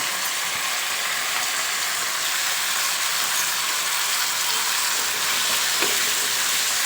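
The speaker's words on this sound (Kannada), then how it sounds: "ಇದು ಸ್ವಲ್ಪ ಫ್ರೈ ಆಗಬೇಕು" Grated coconut and cashews fry in an oiled pan, giving a steady, close, even sizzle that holds at constant loudness throughout, with no voices.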